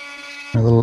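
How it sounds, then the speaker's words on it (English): An oscillating multi-tool fitted with an abrasive finger blade starts up with a sudden loud, steady buzzing whine after a brief quieter hum. "My little abrasive finger blade for the oscillator. Great for shaping little things like this."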